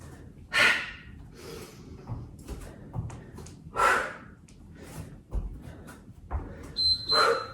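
Several loud, breathy exhales during a yoga HIIT workout, bursting out at irregular intervals with quieter breathing and shuffling between, close to the microphone.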